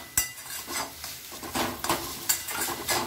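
Kalai greens mixed with Gobindobhog rice flour paste are stirred in a pan, giving irregular scraping and spoon-against-pan clinks over a light sizzle, close and fairly quiet.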